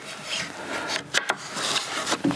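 A thin strip cut from 3/4 inch wood slides in a groove during ladder building, a close, dry rubbing scrape with a couple of short knocks partway through.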